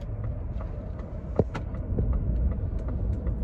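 A 2022 Ford F-150 Lightning extended-battery electric truck accelerating in sport mode onto a highway, a steady low road and wind rumble with a few light knocks of loose items sliding inside the cab.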